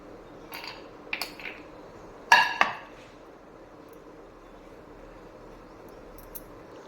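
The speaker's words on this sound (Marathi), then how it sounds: "आता आपण या जाळीमध्ये सर्व आपल्या शेंगा ज्या आहेत त्या काढून घेऊया" Steamed stuffed pods are lifted out of a metal steamer tray, giving a few scattered light metallic clinks and one louder clatter in an otherwise quiet kitchen.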